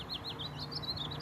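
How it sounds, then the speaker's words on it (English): Several birds, including a mockingbird, chirp in quick, repeated high tweets against a soft, steady ambient background. "So I hear a number of birds."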